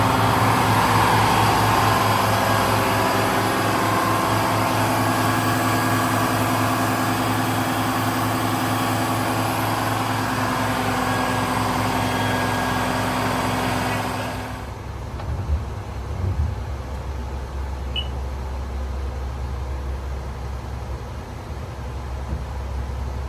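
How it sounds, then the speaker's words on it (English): Engines on a 65-foot Hatteras long-range cruiser run steadily with a loud, broadband drone, then are shut down partway through, leaving a quieter low rumble and faint background noise. "Just check on these engines real quick."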